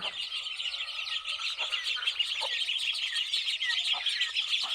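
A dense chorus of high, rapid peeping from many chicks, continuous and close, with no talking.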